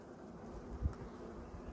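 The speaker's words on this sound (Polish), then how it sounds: "Pszczółki w miarę spokojne, więc nie jest tak źle." Steady low buzzing of many honey bees at a hive, a soft continuous drone close by with a brief louder swell partway through.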